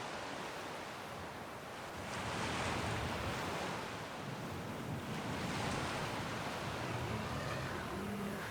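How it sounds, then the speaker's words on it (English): Ocean waves wash steadily in the video game Skyrim, a continuous soft roar of surf that swells a little louder midway and holds, with no talking over it. "I could sit here and listen to the waves all day."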